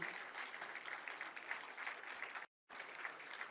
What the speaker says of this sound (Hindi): तालियां जरा जोरदार हो जाएं माननीय मुख्यमंत्री महोदय के